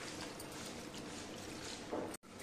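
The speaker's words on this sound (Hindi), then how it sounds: "2-3 बार इसको अच्छे से हम रगड़ते हुए धो लेंगे" Salted bitter gourd pieces are washed in water, giving a steady close-up sloshing and trickling wash of liquid throughout, with a brief dropout near the end.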